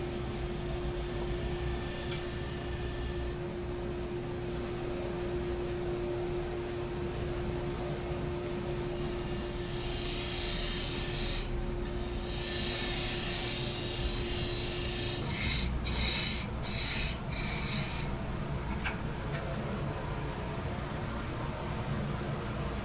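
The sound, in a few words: wood lathe turning a recess in a wooden vessel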